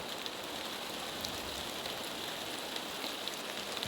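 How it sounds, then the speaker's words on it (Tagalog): Heavy rain pours steadily and densely, a constant close hiss with scattered drop impacts and no voices. "Ang lakas ng ulan"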